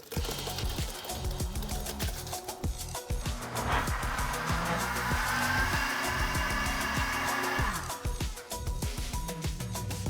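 A blender blitzes simmered potato soup, a steady close whirring drone for several seconds that rises and then cuts off, set against rhythmic background music.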